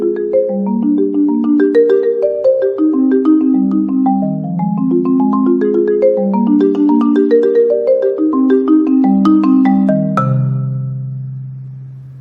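A piece on four-mallet marimba, played with push and pull: the tempo eases slower then quickens the second time through, warm chords and runs ringing close and alone, ending on a held low chord.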